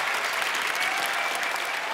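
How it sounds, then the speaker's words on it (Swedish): A large audience at the Faktumgalan 2018 awards gala claps for the performer Baltic Seamen, dense and steady applause filling the hall throughout with a faint crowd murmur beneath. "En jättevarm applåd till Baltic Seamen"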